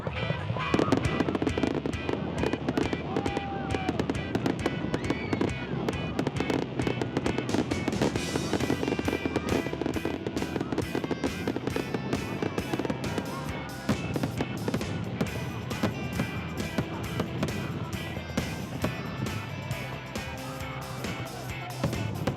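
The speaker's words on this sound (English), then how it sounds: "Maybe even more popular on Independence Day, free fireworks displays." Independence Day fireworks display with rapid, dense bursts and crackling pops going off continuously, a busy barrage of sharp bangs at moderate distance.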